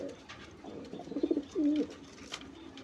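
A female racer pigeon coos softly and close by, giving a few short burbling notes followed by one longer coo, with a faint background hiss.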